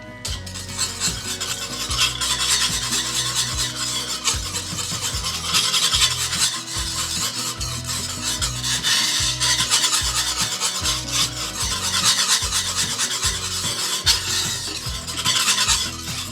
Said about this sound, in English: So I'm gonna go ahead and stir this one time